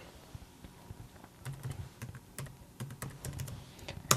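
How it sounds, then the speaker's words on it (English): Password typed on a Mac computer keyboard, a run of quick, light key clicks in irregular bursts, close and fairly quiet, with no one talking. "then enter the password"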